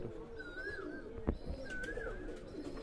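Young Madras Giribaz pigeons make soft, quiet calls close by against a faint background, broken by one short knock midway.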